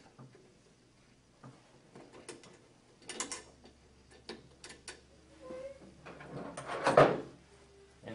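An ILT CanopyLight LED retrofit module slides into an existing canopy light frame and snaps into its retaining clips, giving scattered light clicks and scrapes, then a louder clunk near the end.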